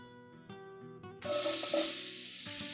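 Onions dropped into melted butter in a soup pot for seafood chowder, a few clanks of the pot first, then a sudden bright, loud sizzle that holds steady and slowly eases, close up with no voices.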